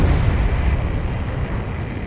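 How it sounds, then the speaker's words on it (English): A heavy underwater explosion in the Ace Combat 7 jet combat game, heard as a loud, low, sustained rumble that slowly fades over the whole moment. "A huge explosion just went off underwater."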